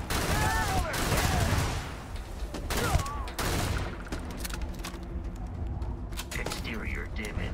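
Gunfire in the space game Starfield, a dense spread of shots and crackling bursts running throughout under game effects and a voice calling out, steady and loud across the whole stretch.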